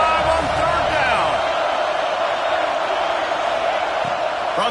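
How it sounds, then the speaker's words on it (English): Buckeye stadium crowd in a college football video game, a loud, sustained roar of cheering on a third down that fills the whole stretch, with a commentator's voice over it. "The Buckeye crowd alive on third down"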